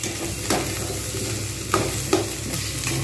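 Cauliflower, potato and onion frying in oil in a pan, a steady sizzle with repeated sharp scrapes of a spoon stirring through the pieces, close and alone.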